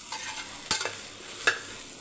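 Ingredients are stirred together in a pan over a faint sizzle, with two distinct scrapes of the spoon against the metal.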